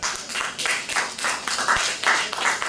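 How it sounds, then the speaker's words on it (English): A live talk-show audience claps in a dense, steady patter of overlapping hand claps for nearly three seconds, with no voice over it. "I didn't pay them to clap."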